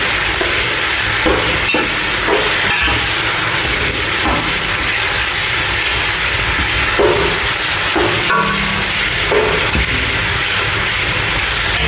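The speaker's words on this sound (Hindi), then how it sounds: "दोस्तों कलेजी का कलर जब तक चेंज नहीं होगा जब तक हम इसे भूनते रहेंगे।" Goat liver fries in hot oil with ginger, garlic and cumin, giving a loud, continuous sizzle with occasional scraping stirs close by and no talking.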